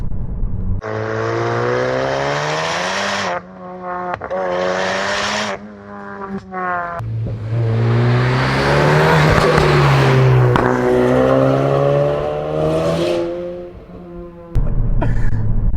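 A 520 hp Mountune m520 Ford Focus RS with an aftermarket titanium exhaust revs hard and climbs through the gears, loud and close, with a strong rising roar that dips briefly between shifts.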